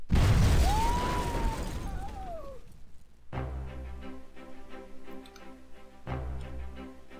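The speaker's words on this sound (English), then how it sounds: "Fire the cannon!" A ship's cannon firing in Muppet Treasure Island: a loud booming blast with a rushing tail and a whistling streak, followed by a musical passage.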